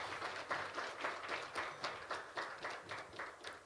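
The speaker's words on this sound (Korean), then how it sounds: "다시 한번 큰 박수" Applause from a forum audience after a speech, steady clapping with rhythmic surges throughout, fairly distant and moderate in level, with no talk over it.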